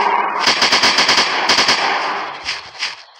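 Gunfire in a dinosaur-hunting sniper video game rattles out as a rapid automatic burst of evenly spaced loud shots, a short pause, then a few more shots fading out.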